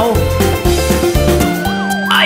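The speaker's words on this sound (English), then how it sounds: "I hear police sirens." A wailing police-style siren rises and falls over loud music with a steady beat in a children's song, its tone sweeping upward toward the end.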